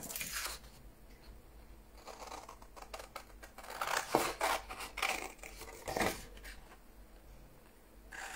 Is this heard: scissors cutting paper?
yes